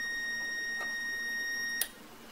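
A continuity tester gives a continuous high electronic tone, then cuts off abruptly with a small click near the end.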